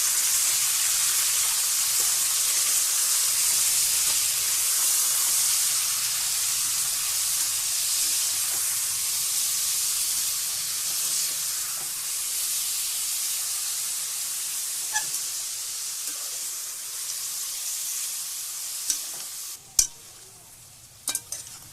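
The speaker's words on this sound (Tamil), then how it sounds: "சிக்கனை போட்டு நல்லா கிளறி விடுங்க" Chicken pieces fry in hot oil for a country chicken curry, a bright, steady sizzle and hiss that slowly eases, with scattered scrapes and clinks of stirring toward the end; no one speaks.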